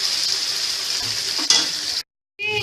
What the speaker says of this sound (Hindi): अब इसमें हम अपनी जो टमाटर की ग्रेवी हमने तैयार की थी वो डाल देंगे